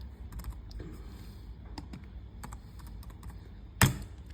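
Fingers typing a master password on a computer keyboard, with light scattered keystrokes in irregular short bursts close by and one sharper, louder clack near the end; no voices.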